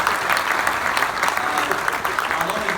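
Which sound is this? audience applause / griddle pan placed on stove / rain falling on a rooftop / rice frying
audience applause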